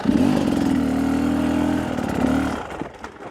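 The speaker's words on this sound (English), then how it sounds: "So start the bike, roll on the uphill and kill it." An enduro motorcycle on an uphill runs loud and close with a steady engine note for about two and a half seconds. Then it stalls abruptly, leaving faint rattles and quiet behind.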